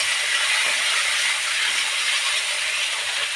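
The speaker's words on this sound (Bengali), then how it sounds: "এটা একটু ভালো করে কষিয়ে দিচ্ছি" Potato and pointed gourd sauté in a pan with ground cumin and ginger paste, giving a loud, steady, close sizzling hiss that continues without a break.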